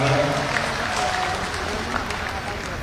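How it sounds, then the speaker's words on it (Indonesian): Cheering and applause from party cadres at a PSI political gathering in Indonesia, a steady crowd roar with clapping that holds at a constant level throughout. "Pernyataan Kaesang ini sontak mendapat teriakan dan tepuk tangan dari kader PSI yang hadir."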